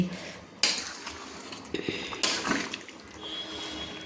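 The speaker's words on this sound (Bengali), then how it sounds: "দিয়ে ফুলকপিগুলো দিয়ে আমি ভালো করে একটু নেড়ে নিচ্ছি" Cauliflower is stirred into khichuri in a pot, with two sharp metal clanks of the spoon against the pot and softer scraping stirs between them, close and without talking.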